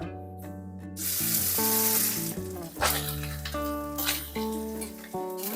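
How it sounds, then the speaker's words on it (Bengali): Egg-yolk coated rice frying in hot oil with onions, a steady sizzle and stirring under prominent background music throughout. "এবার এই ভাতটা তেলে হালকা ভেজে নেব"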